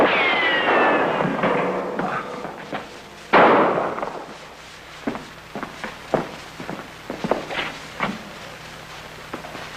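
Sharp gunshots crack in a 1950 Dick Tracy crime episode, one loud report followed by a scatter of smaller pops and scuffling, with a brief rising whine early on and no talking.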